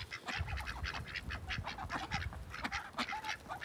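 A flock of ducks quacks continuously in a busy, overlapping chatter, fairly close and steady throughout.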